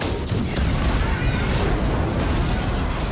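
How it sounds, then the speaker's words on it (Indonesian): A bomb detonates in the action film Samaritan, its dense low rumble and crashing debris filling the whole stretch at steady loudness with no voices. "langsung meledak."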